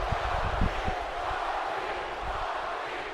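Arena crowd in the WWE 2K18 wrestling game chanting for The Rock, a dense, steady roar of many voices with rhythmic swells, sustained and fairly loud throughout with no one speaking over it.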